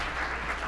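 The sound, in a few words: audience applause at gala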